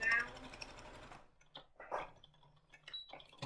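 A home sewing machine stitches a fabric coaster, a fast whirring run of stitching that stops, followed by short bursts of needle movement and soft clicks as the work is pivoted, all fairly close.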